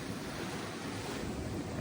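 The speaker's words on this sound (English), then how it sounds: "That's the sea, you can hear lapping there." Sea waves wash softly against the shore near Scarborough, a continuous low broadband rush with no voices, faint and steady throughout.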